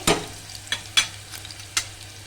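Green peas fry in hot oil in a pan, a steady soft sizzle broken by four or five sharp pops and spatters at irregular intervals, close by and with no talking.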